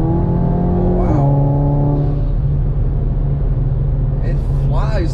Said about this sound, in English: it flies through gears